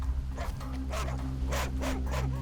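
Dogs barking in short, irregular bursts at a fenced hut hidden deep in the woods of Gwanaksan mountain, heard at moderate distance over a steady low hum.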